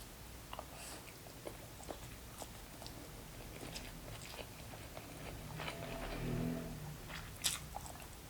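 Close, crisp crunching and chewing of Buldak yakisoba instant noodles with crispy flakes, with irregular bites and a louder crunch near the end, no talking.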